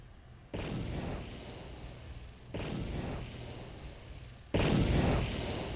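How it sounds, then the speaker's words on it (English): Three explosions go off in Star Wars KOTOR, each a sudden loud boom with a long rumbling tail, about two seconds apart, the last one the loudest, with no talking. "Every explosion in this game is kind of the same."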